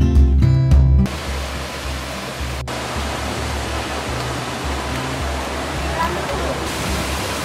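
Steady roaring rush of a waterfall in the Theth Valley, a broad continuous wash of water noise heard close, after a brief burst of louder sound at the start.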